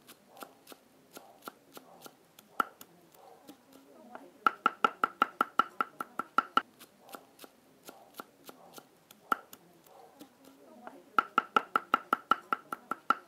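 Rapid, steady knife chops mincing meat on a cutting board, coming in quick bursts with brief pauses between, close and crisp.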